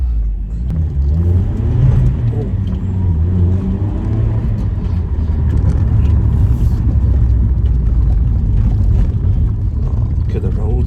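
Honda Civic EP3 engine revving from inside the cabin, a steady mid-pitched drone that swells as it pulls, heard under people talking in the car.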